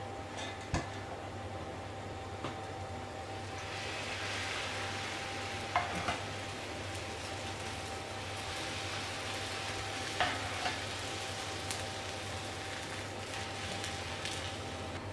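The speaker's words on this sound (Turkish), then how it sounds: "Şimdi ılık olan şerbetimi döküyorum üzerine." Warm syrup poured over freshly baked şekerpare just out of the oven gives a steady, soft hiss and sizzle with a few faint clinks, no voices, over a low constant hum.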